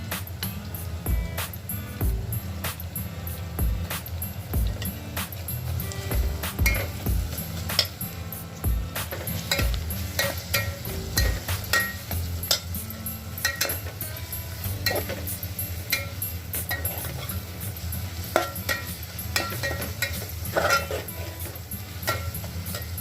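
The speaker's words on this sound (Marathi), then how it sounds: "पाहू शकता हा मसाला मी टाकलेला आहे, जास्त वेळ परतून नाही द्यायचं त्याला" Coarsely ground masala sautéing in a pan for a simple pulao, giving a steady close sizzle broken by frequent sharp scraping and stirring ticks from the spoon, with no talk.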